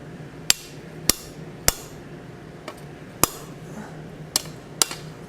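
Hammer blows ring sharply on hot steel at an anvil as a blacksmith knocks out the punched slug, about seven separate metallic strikes at uneven intervals, close and distinct over a quiet shop background.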